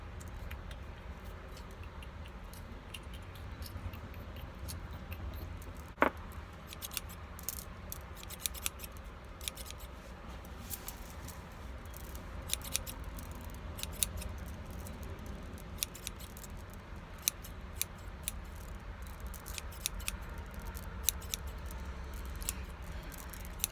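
Scissors snip repeatedly close to the microphone in a quiet Reiki ASMR setting, sharp crisp cuts spaced irregularly and growing more frequent over a soft steady background.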